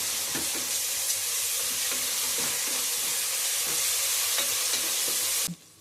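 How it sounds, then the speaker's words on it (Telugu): Ginger garlic paste sizzles and fries in hot oil for a goat head curry, a steady close crackle with soft stirring scrapes, cutting off abruptly just before the end. "ఇది కొంచెం ఆయిల్లో మగ్గాలి."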